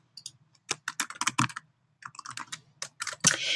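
Quick bursts of computer keyboard typing, with clustered keystrokes in short runs and brief pauses between them, close and fairly clear over a faint low hum, with no voices.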